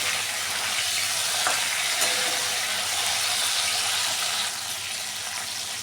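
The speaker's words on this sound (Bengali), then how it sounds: "আলু আর বরবটিটাকে ভালো করে ভেজে নেব" Potatoes and yardlong beans with turmeric frying in a pan, a dense continuous sizzle close up with occasional stirring, no speech.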